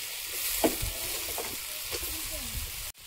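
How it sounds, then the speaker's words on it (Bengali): Tomato and slit green chillies sauté in a pan, a steady close sizzle with a few scraping stirs, ending in a sudden cut. "আর চেরা কাঁচা লঙ্কা দিয়ে ভালোভাবে কষাবো যতক্ষণ না টমেটোটা গলে যাচ্ছে।"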